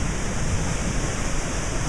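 Floodwater pours steadily from under a formerly submerged bridge at a flooded RV park, a continuous loud broadband rush with no pauses and no voices.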